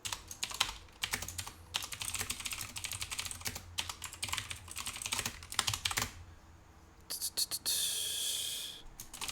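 Rapid bursts of clicking keys on a computer keyboard, close and fairly quiet, broken by short pauses, with soft breathy noise near the end.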